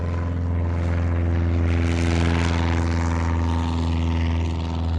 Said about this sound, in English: Again, another fantastic takeoff from that 150.